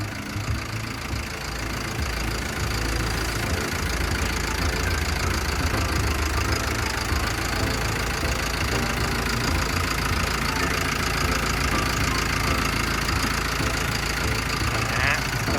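A Caterpillar 924F wheel loader runs on its 3114 four-cylinder turbo diesel engine, idling with a loud, steady, knocking rumble recorded up close for the whole stretch.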